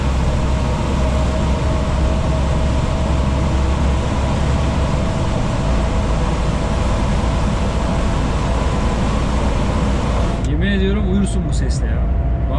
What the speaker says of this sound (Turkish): Lastik sesi